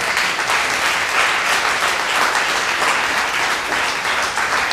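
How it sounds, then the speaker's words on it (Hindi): A crowd at a church gathering applauds, with a thick, even wash of clapping that holds at a steady level throughout without letting up. "यहाँ तालियां होनी चाहिए थी।"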